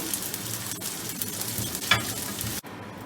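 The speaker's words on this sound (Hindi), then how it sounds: "इसी तेल में हमने फिर अपनी अदरक डाल के भूननी है" Ginger frying in hot oil after other ingredients were removed, for a Thai ginger soy soup, gives a steady close sizzle with light stirring scrapes and no talk, cutting off sharply near the end.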